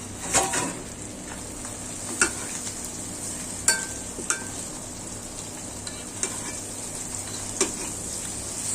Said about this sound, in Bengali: আমার পেঁয়াজ রসুনগুলো লাল হয়ে গেছে, এখন আমি শাক দিয়ে দিব।